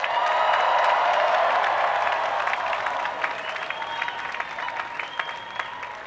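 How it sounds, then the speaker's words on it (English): A large crowd at the University of Virginia Class of 2024 graduation ceremony applauds and cheers for one of the schools. The applause is dense and sustained, a loud roar that tapers slightly, with scattered voices mixed in. "I'd like everyone to cheer for this next school"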